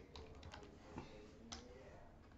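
Quiet typing on a computer keyboard, a quick run of clicking keystrokes with a few firmer taps, close but soft against low background hiss.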